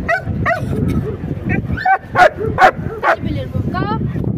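Dogs bark and yip at a busy outdoor dog market in Sabunchu, with sharp repeated barks mixed with whimpers over a crowd of people talking nearby.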